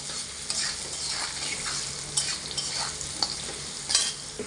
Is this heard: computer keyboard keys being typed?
no